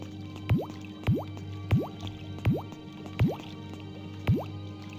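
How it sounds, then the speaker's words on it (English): Pumpkin pickups in the game Jersey Devil, a series of about seven bubbly rising bloops at a roughly steady pace, each one clear and distinct against a quiet game background. "I like the sound it makes when he picks up the pumpkins. Bloop, bloop."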